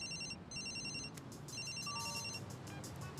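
Telephone ringtone in an Ultimate Spider-Man cartoon episode: a bright electronic trill in repeated bursts over a steady noisy background, with no talk.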